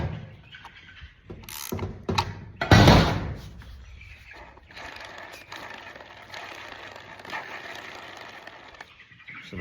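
Ratcheting and metallic mechanism sounds as a nut is tightened down onto a bolt during a wooden chicken tractor build, with a loud clatter near the middle and softer clicks and scrapes after.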